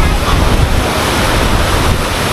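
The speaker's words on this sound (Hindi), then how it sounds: "बहुत तेज बारिश हो रही है।" Very heavy rain pours down with strong wind, a loud steady roar of dense rainfall and gusting wind noise that fills the whole clip without pause.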